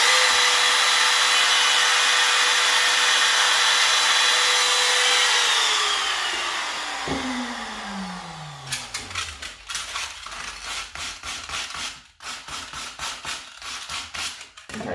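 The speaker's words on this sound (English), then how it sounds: "as you're running your router up, you need to just follow the centre of this line" A wood router cuts small shelf-slot notches, its high whine loud at first and then spinning down in falling pitch after it is switched off, followed by scattered knocks and handling clatter of wood.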